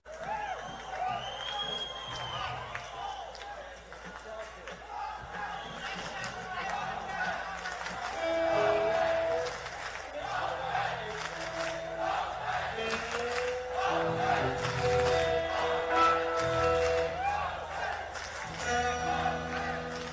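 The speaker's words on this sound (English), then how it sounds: "listen to the crowd chanting behind him" A 1973 live concert crowd chants behind the guitarist while he changes a guitar string on stage: a loud, roaring mass of voices with rhythmic shouts and some sustained musical tones, continuous and fairly near.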